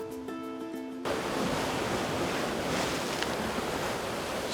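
Ocean waves break near rocks at a river mouth on a tropical coastline by a sacred rock. After a brief tonal opening, a loud, continuous, close surf roar takes over and fills the rest.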